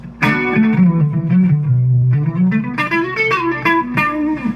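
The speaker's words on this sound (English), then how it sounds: "I don't like a lot of reverb, just enough. Just like that, very subtle." Guitar played through a BOSS IR-200 amp simulator with subtle reverb gives sustained, ringing chords and single notes with a light tail, loud and close for a few seconds.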